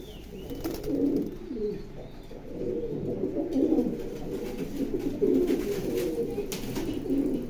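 Black racing homer pigeons coo steadily throughout, low soft burbling calls overlapping one another at close range, with faint rustling behind.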